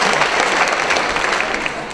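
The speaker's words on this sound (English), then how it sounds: "if you want to applaud for the first day of class, please do" A town hall audience on the first day of class bursts into close, loud applause, a brief, steady rush of many hands clapping together.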